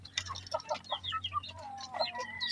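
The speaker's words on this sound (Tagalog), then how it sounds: "pakain tayo yung mga parawakan natin na sisiw" Black Parawakan chickens about four months old cluck and chirp in a quick, busy run of calls at feeding time, close by and moderately loud.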